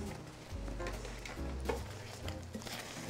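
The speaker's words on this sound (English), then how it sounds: "We're gonna stir these in and we're gonna cook it for about a minute or so." Quick oats stirred into a chocolate cookie mixture in a pot on the stove, giving soft, quiet scraping and thick wet stirring with faint low clunks against the pot.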